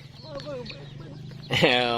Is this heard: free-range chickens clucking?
yes